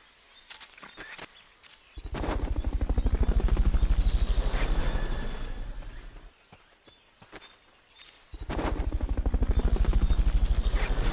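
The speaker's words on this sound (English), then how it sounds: "Fulton recovery subject confirmed onboard helicopter." A helicopter from the Metal Gear Solid Peace Walker game thrums with a loud, steady rotor chop that swells, dips around the middle, then returns strongly, with no talk over it.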